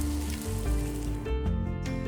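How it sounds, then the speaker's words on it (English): Blender-made batter sizzles and spits steadily as it is poured into a hot cake pan, a close, continuous frying crackle with no talking. "So the cake pan is hot, and I'm going to pour the batter that was made in the blender, and then this, as soon as it hits,"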